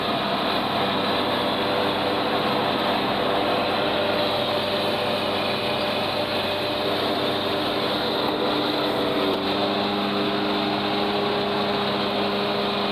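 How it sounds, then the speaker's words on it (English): A ride-on or walk-behind lawn mower with freshly corrected, previously mistimed blades cuts through wet grass, its engine droning steadily and loudly up close for the whole stretch, with no talking. "I'm gonna mow it."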